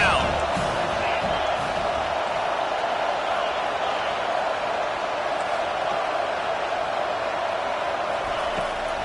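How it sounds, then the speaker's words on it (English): A dense, steady roar of a stadium crowd in a college or pro football video game, swelling loudly on a defensive third down and sustained throughout, with a commentator's voice faintly mixed in. "Decibels rising as the crowd gets behind this defense on third down."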